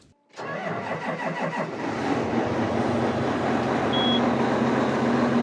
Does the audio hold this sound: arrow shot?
no